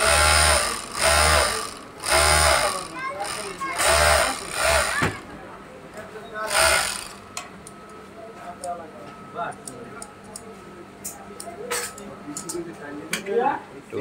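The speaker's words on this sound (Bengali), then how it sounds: "তো দেখতে পাচ্ছেন এটা হচ্ছে আপনার ওভারলক মেশিন।" Overlock sewing machine locking the edges of shirt fabric, running in several loud bursts of rapid whirring stitches separated by pauses, followed by quieter ticking and handling.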